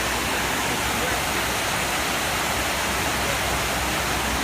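Steady rushing water pours down continuously into the 9/11 memorial fountain in New York City, a dense, loud splashing roar filling the whole moment without pause.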